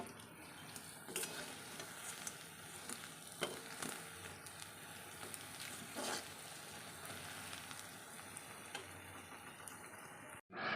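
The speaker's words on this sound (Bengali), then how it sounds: "তারপর এখানে কিন্তু আমি ভেজে নিচ্ছি, একটু লাল লাল করে ভেজে নেব" Fritters (bora) frying in a pan sizzle steadily and close up, with occasional clicks and stirring taps, ending in a brief gap of silence.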